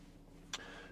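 A dash cam inside a 2015 Range Rover Sport 3.0 SDV6 HSE Dynamic gives a single short electronic click or chirp over a quiet cabin hum.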